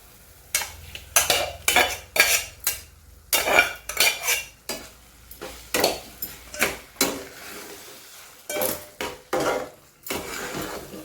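Moth beans (matki) are stirred in a pan: a spatula scrapes the metal in quick rhythmic strokes, about two per second, loud and close, over a faint sizzle.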